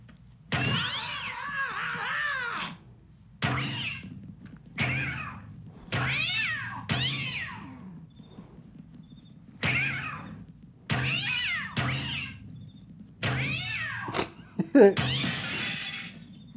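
Several cat meows in separate bursts with short gaps between them, fairly close and loud, ending in a harsher yowl.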